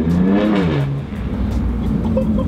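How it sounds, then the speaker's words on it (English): A BMW F82 M4 with an ARMYTRIX valvetronic exhaust, valves open, revs up and back down, a loud, close engine note that climbs quickly and then settles into a lower drone. "So we turn on the valves for the ARMYTRIX exhaust."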